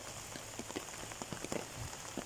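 Rain falls on a nipa roof, a soft steady patter with scattered sharper drops tapping close by, fairly quiet and with no voices.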